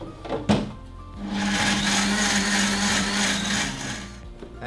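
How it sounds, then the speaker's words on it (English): A blender whirs steadily after a brief thump, mixing a thick vegan sauce, running loud and continuous for several seconds before easing off at the end. "Put it in your blender, and we're gonna mix it up."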